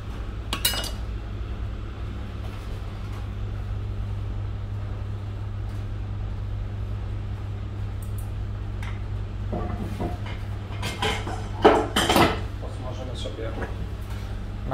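A knife cuts tender cooked duck into three pieces in a kitchen, giving a few light knife and plate clinks near the start and a clustered burst of clatter toward the end, over steady background hum.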